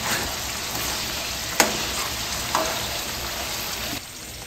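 Longganisa sausage fries in its own rendered oil, giving a steady close-up sizzle with a few small pops and crackles throughout.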